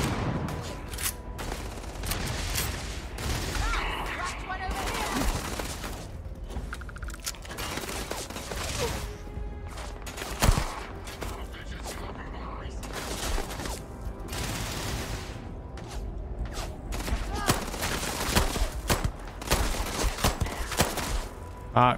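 Rapid gunfire from the player's weapons in the video game Starfield, dense bursts of shots and automatic fire crackling almost continuously, loud and close.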